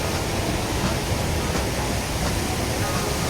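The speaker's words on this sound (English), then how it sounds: "This waterfall was there." Waterfall at the Silver Dollar City theme park, a steady loud broadband rush of falling water with no pauses, heard close.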